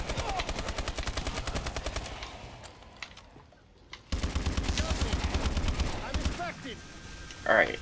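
Rapid automatic gunfire from Call of Duty: Advanced Warfare Exo Zombies mode, loud bursts of repeated shots, a brief lull around the middle, then renewed sustained firing with a sharp final blast.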